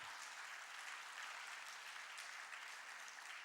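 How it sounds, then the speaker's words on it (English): Faint but continuous clapping from an audience of educators at an education event, a dense, even patter of many hands with no voices over it. "Let's hear you clap for 20 seconds."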